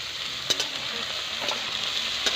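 Potatoes and onions frying in a spiced tempering, a steady close sizzle broken by a few sharp stirring knocks and scrapes, with no one talking.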